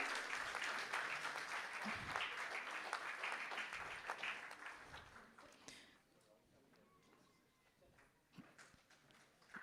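Applause at a formal felicitation ceremony held by a Governor for Tamil-to-Telugu translators on Bharathiar's birth anniversary, a loud dense round of clapping that fades through the second half into quieter scattered claps.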